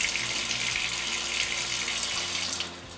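Water sloshing and rushing inside the lower spray arm of a Bosch dishwasher as it is tipped and shaken back and forth, a steady close hiss of running water that eases off near the end.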